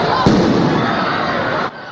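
A sharp burst of fireworks pops loudly, followed by a dense crackling roar of explosions that cuts off abruptly near the end.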